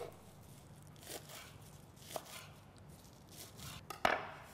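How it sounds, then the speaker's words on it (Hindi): A knife roughly chops fresh garlic on a board, giving a few scattered, soft crisp cuts and one sharper tap near the end, faint and close. "ये लहसुन की पत्तियां हमने चॉप कर ली हैं"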